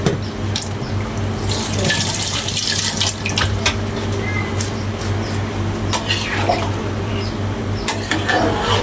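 Tamarind water is poured into a pot of asam pedas fish curry, a steady splashing pour running for about nine seconds over a low hum, with no talking.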